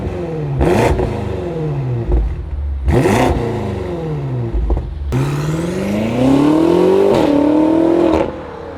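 A twin-turbo V8 truck engine revs hard several times, each burst climbing and falling in pitch, then a longer sustained rev held near and loud before cutting off.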